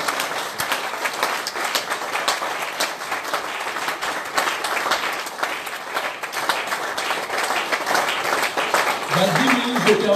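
A church congregation claps and applauds loudly for the Lord during a French-language worship service, a dense, continuous crowd clapping that swells toward the end, with a preacher's voice over it.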